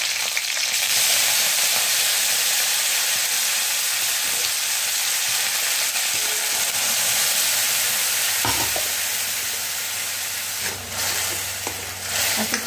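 Curry leaves and other ingredients sizzle in hot oil in a home kitchen pan while being stirred, a loud continuous frying hiss with occasional scrapes and clinks of the spoon, no talking.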